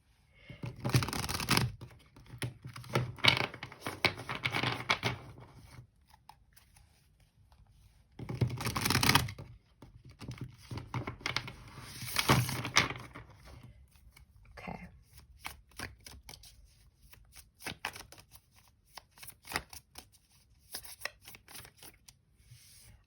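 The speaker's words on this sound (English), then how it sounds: "This deck is a bit hard to shuffle," A stiff tarot card deck being shuffled by hand, giving repeated bursts of riffling and flapping card noise with brief pauses between, close and fairly loud, with no voices.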